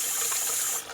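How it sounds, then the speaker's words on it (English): Water runs steadily from a tap after a repaired ductile iron water main leak, a loud, close, continuous hiss that drops slightly at the end, with no talking. "You just running water?"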